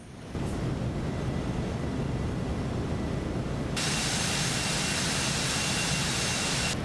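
Citation X business jet engines in the X-Plane 12 flight simulator, a loud steady roar that grows brighter and louder partway through as the throttle is pushed up, with no talking.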